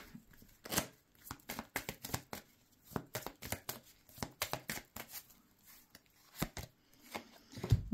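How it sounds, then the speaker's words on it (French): Cards are handled and drawn from a deck during a tarot reading, giving soft, close flicks and slides in irregular bursts, some louder snaps among quieter rustles. "Je vais rajouter quand même une carte ou deux pour voir."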